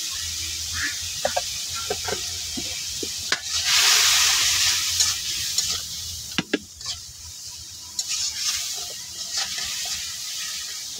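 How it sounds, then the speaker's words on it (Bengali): A spice paste of turmeric and chili powder fries in a pan, a steady sizzle punctuated by stirring clicks and scrapes, with a louder hissing burst when it is worked around the pan. "তো মশলাটা আমি ভালো করে কষাই নেব।"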